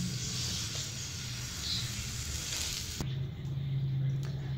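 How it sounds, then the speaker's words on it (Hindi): A stuffed mooli (radish) paratha fries on a hot pan with a continuous gentle sizzle, joined by a brief knock partway through; no one speaks. "अब इसकी दूसरी साइड भी इसी तरह पका लेंगे हम"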